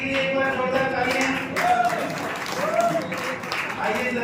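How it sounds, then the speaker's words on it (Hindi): A seated audience at a marketing-plan seminar claps steadily, producing a continuous wash of applause with a person talking over it. "तो अमर जी के लिए एक बार जोरदार तालियां।"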